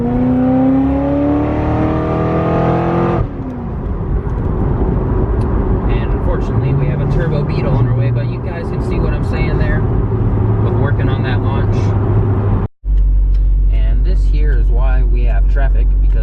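A 700-horsepower Corvette launches from a dig, its engine revving hard and loud up close, then holding a steady roar as it pulls away, with talk over the top and a brief cut near the end.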